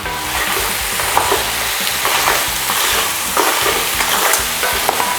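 Crab and shrimp being stirred over high heat in a chili garlic mix, a steady loud sizzle and frying hiss with repeated scraping stir strokes throughout, no voices.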